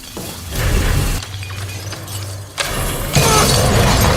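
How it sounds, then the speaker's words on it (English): Glass shatters and crunches loudly as a man falls into a glass-crushing machine in a movie scene, with heavy breaking bursts and continuous grinding debris over several seconds. "Billy accidentally fell into a glass-crushing machine that left him hideously disfigured"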